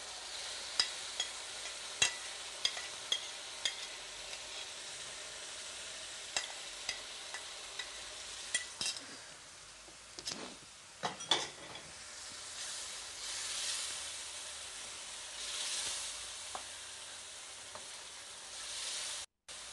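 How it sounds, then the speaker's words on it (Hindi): Marinated lamb liver frying in a pan with softened tomato paste gives a steady, quiet sizzle and hiss, broken by scattered sharp ticks and a cluster of louder spatters midway, with no talking. "जब टमाटर गल जाए तो फिर आपने इसके अंदर डालनी है कलेजी"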